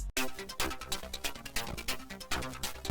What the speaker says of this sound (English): Then the last sound I added to the melody is this ARP called Mexican,